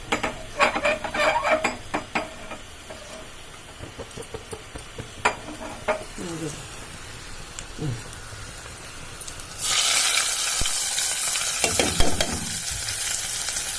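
Dried chilies fry in oil for an amaranth-leaf tamarind curry, with scattered soft clinks and stirring at first, then a loud, steady hiss of sizzling oil that takes over for the last few seconds.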